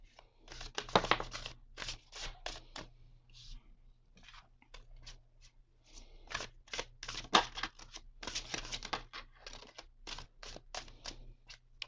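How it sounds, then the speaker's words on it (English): Tarot cards being shuffled by hand at a table, a run of quick papery riffles and slaps in bursts with short pauses, close and fairly quiet, with soft talking in between. "So let's get to shuffling to see what the cards have in store for us all."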